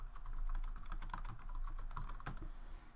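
Rapid, close key presses on a computer keyboard while a LaTeX footnote is typed, a busy irregular clatter with no voices.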